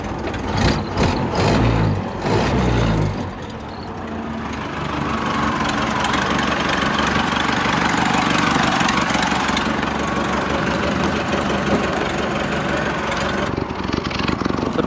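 Model A Speedster with a freshly built engine, timing just set, starting with a few loud chugs and then settling into a steady, even idle that runs continuously, no talk.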